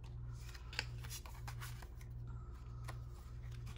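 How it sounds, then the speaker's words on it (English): Scissors snipping through red card stock in a few close, soft cuts, over a steady low hum in a quiet room. "I could cut out a square of that"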